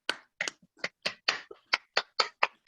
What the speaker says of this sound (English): Let's give a big round of applause for everybody.